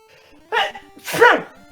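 A single sneeze bursts out at close range during a tabletop role-playing game session, preceded by a short inhaled buildup, with quiet background talk around it.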